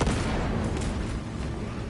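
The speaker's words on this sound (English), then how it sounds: "We must turn the cannons on it while there is still time." Heavy cannon fire in the Space Marine 2 video game, a dense, loud rumbling blast filling the whole clip with booming low end and crackling debris, no voices.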